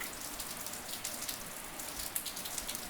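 Late-spring rain falls over Rio de Janeiro, a soft steady patter with scattered sharper drips on surfaces, faint and even throughout.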